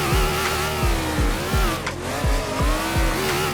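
A pro drift car driven hard around a race track, its engine rising and dropping through rapid gear changes and rev bursts as the tires squeal, close and loud with no talk.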